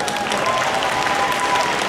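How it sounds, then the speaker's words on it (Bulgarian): Audience applauding at a steampunk costume show at an anime convention, steady dense clapping from a large crowd filling the whole stretch without a break. "Аплодисменти!"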